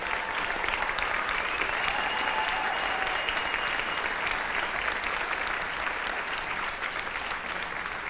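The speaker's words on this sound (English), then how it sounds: "Another round of applause for our top 10 seniors." Audience at a high school achievement awards ceremony applauds the top 10 seniors: sustained, even clapping from a full room, steady and moderately loud for several seconds.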